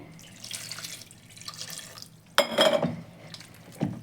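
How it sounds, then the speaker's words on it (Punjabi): Water poured from a tap over homemade butter in a bowl for washing, a soft running trickle followed by a sharper splashing gush and a final splash, close and moderately loud without any talking. "ਜਿਹੜਾ ਮੱਖਣ ਆਪਣੇ ਕੋਲ ਇਹਦੇ ਵਿੱਚ ਆਪਾਂ ਨਾ ਪਾਣੀ ਪਾ ਕੇ ਇਹਨੂੰ ਧੋਵਾਂਗੇ"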